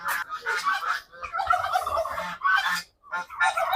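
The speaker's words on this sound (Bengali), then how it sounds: "ভিতরে ঢোকার পরেই সব টার্কি, হাঁস সবগুলো কিভাবে চিৎকার চেঁচামেচি করতেছে" Turkeys and ducks squawk and honk loudly on a desi chicken farm, overlapping harsh calls close by with only brief gaps, no talking.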